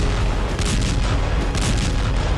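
Artillery and tank fire in ground combat between the Israeli army and Hamas: a dense, loud, continuous barrage of booming blasts and gunfire rumbling without pause, with no voices.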